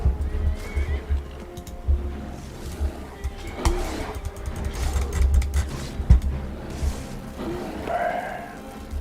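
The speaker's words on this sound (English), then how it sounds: "Don't kill a horsey." A horse whinnies loudly in a video game, with rumbling clip-clop hoofbeats and low game noise running underneath throughout; no one speaks.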